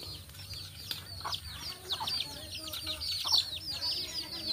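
Several chickens cluck and chatter in quick, high-pitched bursts at a moderate distance, a busy village barnyard murmur with occasional sharper calls.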